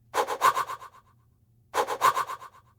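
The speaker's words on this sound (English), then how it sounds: "And then a frequency shifter, which has a very nice delay effect, a feedback effect on it" Mouth-made sound run through a frequency shifter with delay and feedback, giving a retro game-like effect: two bursts of stuttering, repeating echoes that fade out, separated by a short pause, moderately quiet.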